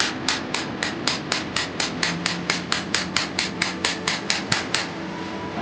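Metal stapler striking a nano-coated anti-scratch phone screen, about twenty sharp regular taps at a steady quick rhythm, close and fairly loud with no talking.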